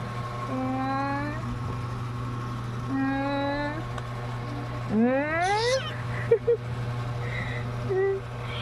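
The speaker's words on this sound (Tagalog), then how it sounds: "malaki na yung aming pusa na maliit" A young house cat meows repeatedly at close range, with two drawn-out mews followed by a rising, more insistent cry, over a steady background hum; a few soft clicks follow.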